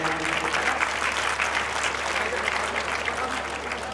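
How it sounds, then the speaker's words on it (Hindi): An audience at a building inauguration ceremony claps loudly and steadily, a dense, continuous burst of applause filling the room without letup. "आप जोरदार ताली बजाओ कि आप सब साथ दे रहे हैं"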